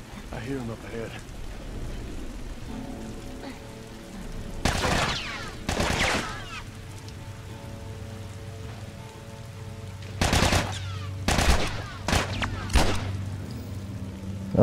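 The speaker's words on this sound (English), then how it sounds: "that guy actually took two headshots to take down" Gunshots in The Last of Us, two loud sharp shots a few seconds apart followed by another cluster of shots, over rain-like ambience and background game sound.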